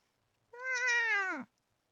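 A cat gives one drawn-out, complaining meow lasting about a second, close and clear with nothing else around it.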